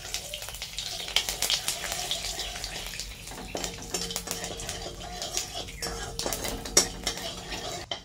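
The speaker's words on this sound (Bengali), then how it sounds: "তেল গরম হয়ে গেছে, এটাতে আমরা 5 ফোড়ন দিয়েছি। দেখুন ভালো করে নেড়ে চেড়ে নেব।" Panch phoron, a five-spice tempering, stirred in hot oil in a wok for banana stem curry with prawns: close, continuous clatter and scraping of a metal spatula against the pan, with no talking.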